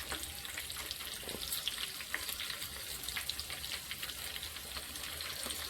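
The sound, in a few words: garlic cloves frying in oil with turmeric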